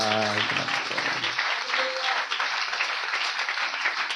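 A church congregation claps and applauds at a festival service, a dense, loud burst of clapping that continues steadily after a voice fades out at the start.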